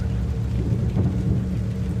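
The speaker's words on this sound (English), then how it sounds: "The sound of distant thunder, wind, and rain blankets the moonlit tombstones." A stormy graveyard night at a steady, loud level: distant thunder rumbling low under continuous wind and rain.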